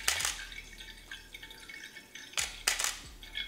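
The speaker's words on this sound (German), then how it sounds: "ich schütte wieder Wasser rein" Water poured in short splashing bursts, with a couple of louder dripping and trickling gushes near and fairly quiet, no voices.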